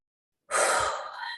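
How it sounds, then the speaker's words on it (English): A single long, deep breath taken during a guided meditation, close and clear, rising sharply and then trailing off, alone against silence. "Take one more big breath."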